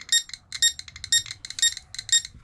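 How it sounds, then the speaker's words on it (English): A GQ GMC 600 Pro Geiger counter alarm beeps rapidly in short bursts, about five clusters repeating at a steady half-second rhythm, loud and close. "I gotta set the alarms on these."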